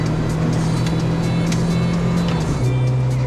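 A Nissan Sunny (Datsun 1200) small truck engine pulls steadily in third gear, a sustained drone that dips briefly and settles at a slightly lower pitch; close and continuous, no talking.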